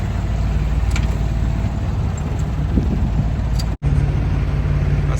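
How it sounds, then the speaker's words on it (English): A sailboat's engine running while motor sailing out a channel near Puerto Rico, a loud steady low drone with wind rumble, briefly cutting out near the end. "So I'm just motor sailing out the channel."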